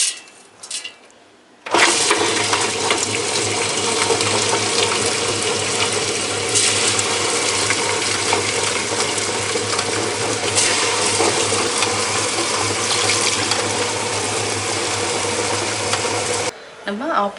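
A wet grinder churns soaked rice, urad dal, flattened rice and sago with water into appam batter, a loud steady mechanical whirring and grinding hum that starts abruptly and runs continuously before stopping.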